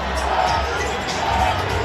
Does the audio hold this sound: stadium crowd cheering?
yes